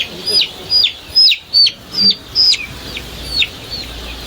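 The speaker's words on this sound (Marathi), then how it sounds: "कोंबडीचं पिल्लो आहे" Free-range chicks on a farm in Maval near Pune give a run of about nine short, high, downward-sliding calls at a steady pace, close by, with a quiet background.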